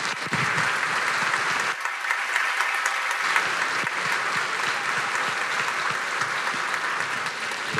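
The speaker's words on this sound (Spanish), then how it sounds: "pido un fuerte aplauso para ellos, que son los que hacen que esto ruede normal" A theatre audience at a live comedy show applauds the backstage crew, a loud, sustained roar of many clapping hands that runs unbroken and steady throughout, with no speech over it.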